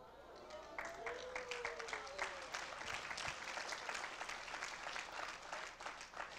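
A church congregation claps in scattered, quick bursts during a Sunday service, with a voice speaking over the applause throughout and the clapping staying moderately loud.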